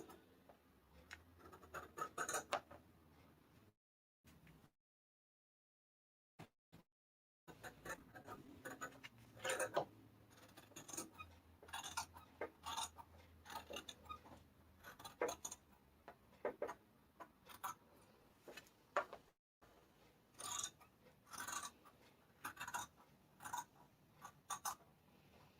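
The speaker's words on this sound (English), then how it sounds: "And then I'm going to cut out around the edge." Scissors cut around the edge of a fleece scarf piece in a series of quiet, irregular snipping and scratching strokes, broken by two short gaps of silence, close by with no talking.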